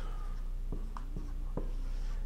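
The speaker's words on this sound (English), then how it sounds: "Let me finish drawing this and then I'll keep on talking. So I'm drawing this out." Hand-drawn lines of a township grid being sketched with a pen or marker, a few short scratchy strokes spaced apart over a steady low hum, with no talking.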